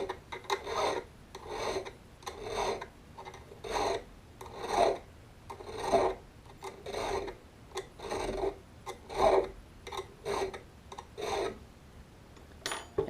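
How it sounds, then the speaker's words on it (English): A hand file rasps back and forth across an auger bit being sharpened, about a dozen evenly spaced strokes, each a close, gritty scrape with a brief pause between, alone. "Now you've resharpened your auger bit."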